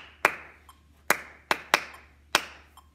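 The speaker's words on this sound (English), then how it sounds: "This time I'll say the numbers that you're clapping." Junior high band students clap a rhythm together: five sharp, crisp claps in an uneven pattern over three seconds, close and distinct against a quiet room.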